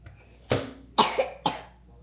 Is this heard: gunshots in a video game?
no